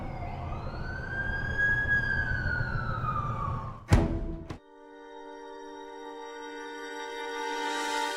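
A wailing ambulance siren in The Amazing Spider-Man 2 video game sweeps up and down for about four seconds, breaks off with a sharp burst, then gives way to steady tonal vehicle sounds that swell toward the end.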